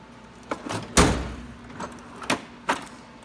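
A metal tool box drawer for pliers slides open in a garage, a few short rattling rolls and clunks spread over about three seconds, close and fairly quiet.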